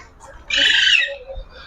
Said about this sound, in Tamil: இது நோமலாக இருக்கிற அங்கட இலங்கையிலே இருக்கிற கிளி இனங்கள் தான் இதுக்குள்ளே இருக்குது